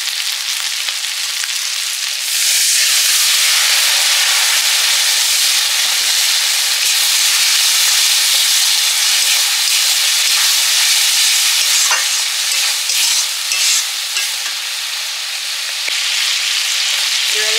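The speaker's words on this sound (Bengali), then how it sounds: "দুটোই একসঙ্গে ভাজা হয়ে গেল, পেঁয়াজ আর চিংড়ি মাছ।" Onion and prawns fry together in a pan with a loud, steady sizzling hiss that swells after a couple of seconds and holds, broken by occasional stirring scrapes.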